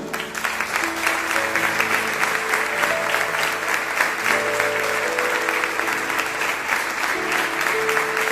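A church congregation applauds steadily for about eight seconds, dense sustained clapping with sustained musical tones from instruments held underneath.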